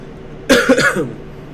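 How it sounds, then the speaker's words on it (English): A single close, loud cough burst breaks into two or three harsh chesty pulses from a person who is sick, followed by quiet. "I'm gonna leave all the coughing and all that in"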